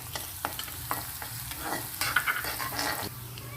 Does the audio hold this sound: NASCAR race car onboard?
no